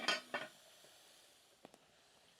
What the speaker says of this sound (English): Go ahead and throw the lid back on.